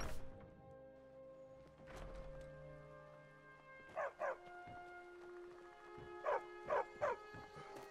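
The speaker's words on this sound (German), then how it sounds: "Ein Hund." A dog in the video game Skyrim barks in two short bursts, first a pair and then a triple of sharp woofs, over game ambience and musical tones, moderately loud.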